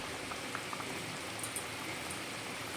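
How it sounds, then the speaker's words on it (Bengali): Fish curry gravy, a watery sour snakehead fish broth with mango, bubbles at a rolling boil in a pot, a soft continuous bubbling hiss with occasional pops, close and steady with no voices. "তো ঝোলটা খুব ভালো মতো ফুটে উঠেছে"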